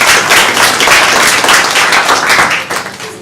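Loud, dense clapping from an audience at a college program on social media and trolling, a sustained close roar of many hands that tapers slightly near the end.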